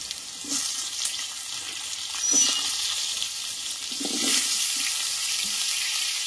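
Cut, washed pumpkin hits hot oil with tempering spices and sets off a continuous loud sizzle that swells briefly midway, with faint stirring clinks beneath.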